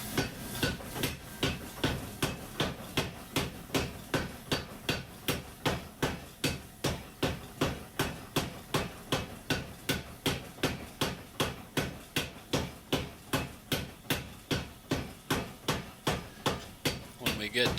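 A power hammer pounds a Damascus steel billet for chef knives in a rapid, relentless rhythm of heavy strikes, roughly three per second, loud and close throughout.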